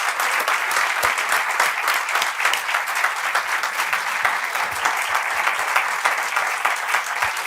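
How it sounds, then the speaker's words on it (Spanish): Welcoming applause for three podcast guests, bright and close, with continuous brisk clapping and sharp individual claps standing out, steady in level throughout. "les damos un fuerte aplauso de bienvenida a los 3."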